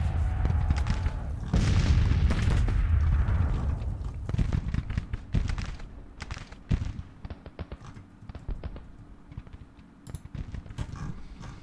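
Artillery fire in the Grand Tactician Civil War strategy game's 1863 campaign: a heavy booming roar early on, then a long run of sharp, irregular cracks and thuds like scattered cannon and musket volleys, with no speech.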